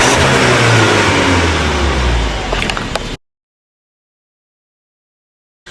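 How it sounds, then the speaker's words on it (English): A 2018 Audi A5 Sportback S line engine revved hard, loud and close for about three seconds with a surging, throaty roar and a few sharp pops near the end, then sudden silence. "Rev it! Rev it!"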